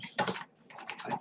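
Someone types on a computer keyboard, producing two quiet bursts of rapid, close key clicks separated by a short pause.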